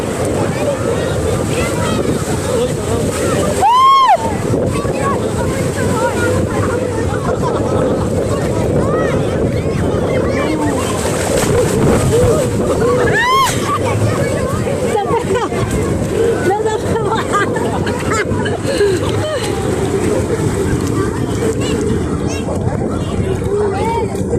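Strong ocean waves at Bonday Beach roll in as a continuous loud rush under heavy wind buffeting on the microphone, with a voice talking over them.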